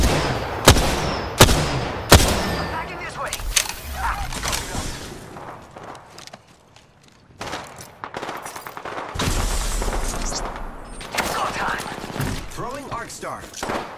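Apex Legends firefight with sharp close gunshots in quick bursts, then rattling weapon handling and scattered shots, a brief lull, and renewed heavy firing; voices talk intermittently amid the combat.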